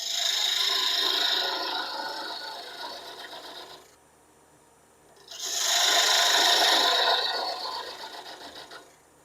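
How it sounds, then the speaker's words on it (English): Homemade thin parting tool cutting into wood spinning on a lathe, a loud close scraping hiss that pauses briefly midway before resuming just as strongly. "I'm going to use my thin parting tool, a homemade thin parting tool, to define my different segments."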